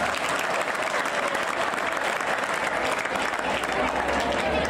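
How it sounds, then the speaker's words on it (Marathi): A college audience of rural students breaks into loud, sustained applause at an award ceremony, dense clapping from a large crowd that holds steady throughout. "तुम्ही एकदा स्वतःसाठी टाळ्या वाजवा."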